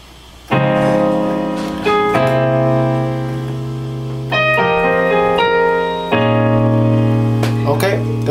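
Slow piano playing of the first part of a song's intro, sustained chords changing every couple of seconds, close and clear with no talking.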